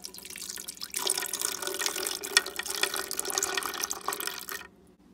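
Milk is poured for a peanut M&M milkshake, a steady liquid stream that starts after a brief moment and runs for several seconds at close range before stopping abruptly.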